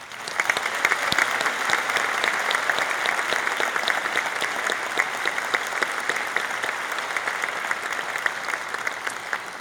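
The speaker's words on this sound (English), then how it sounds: "Please join me in another round of applause for Dr. Bonnie Schaefer." Audience applause at the Boyles CEO Lecture honoring Dr. Bonnie Schaefer, co-owner of Westglow: dense, steady clapping from a full room, loud and unbroken for the whole stretch, with no voices over it.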